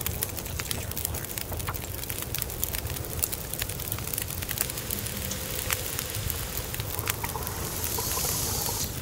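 A campfire burns in The Long Dark with steady soft crackling and scattered sharp pops over a low rumble, moderately close and continuous throughout.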